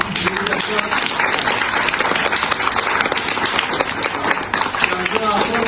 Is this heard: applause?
yes